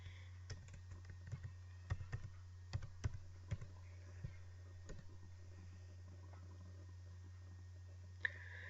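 Quiet typing on a computer keyboard while entering an email and password, scattered light key clicks in short bursts over a steady low electrical hum, with a sharper click near the end.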